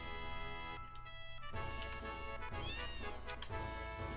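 A cat in a Final Fantasy VII mod meows several times in close succession, clear drawn-out tonal calls over a steady background music bed.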